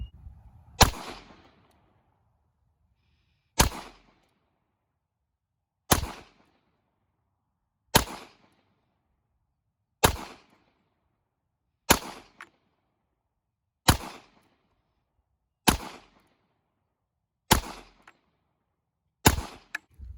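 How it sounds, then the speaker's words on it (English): Ten single pistol shots from a Hi-Point JCP .40 S&W ring out at a slow, steady pace, about two seconds apart. Each report is loud and sharp, with a short decaying tail. "I'm going to do rapid fire best I can with this hunk of metal"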